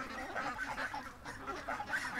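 A goose honks among breeder ducks in a pen. Repeated nasal honks and quacks overlap at moderate distance, fairly faint and continuous, with no talking.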